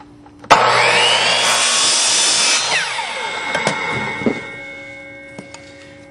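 A short length of 2-inch PVC pipe is cut with a power saw, a loud continuous grinding whine that starts abruptly, holds for about four seconds, then trails off as the blade slows, with a few light knocks at the end.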